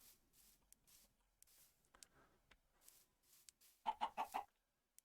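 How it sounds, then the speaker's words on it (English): A Minecraft chicken gives a short burst of four quick clucks near the end, loud and close after a stretch of faint clicks and quiet ambience. "Yeah, I got a chicken."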